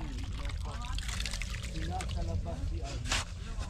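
Water runs and splashes quickly nearby in a steady, gurgling flow, with faint voices murmuring underneath and a brief louder splash near the end.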